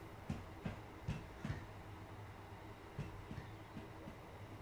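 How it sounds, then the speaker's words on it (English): From the cab of a Class 377 electric train, wheels clatter in rhythmic pairs of clicks over rail joints as a train passes, faint and steady with a low rumble beneath. "we need to wait for the entire train to get past it"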